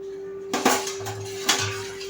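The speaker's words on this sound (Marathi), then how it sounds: "आता लिंबू रस मी मिक्स केलेला आहे।" A spoon stirs fresh lemon juice in a glass for lemon sherbet, clinking against the sides in a few sharp taps, close and fairly clear, with soft swishing between them.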